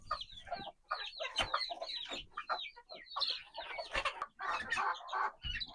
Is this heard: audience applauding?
no